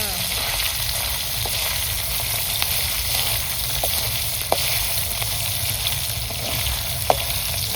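Paneer and onion fry in very hot oil, a dense continuous sizzle with occasional sharp pops and crackles, close and loud, alone without talk.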